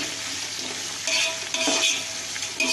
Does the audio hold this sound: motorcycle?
no